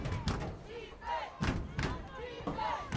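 Slam football fans cheer and roar in a stadium, bursts of crowd noise and thuds rising and falling over a few seconds, fairly faint.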